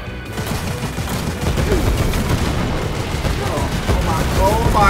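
Dense, rapid gunfire from Wolfenstein: Youngblood keeps up a loud, continuous volley with heavy low rumble, and a voice is faintly audible underneath.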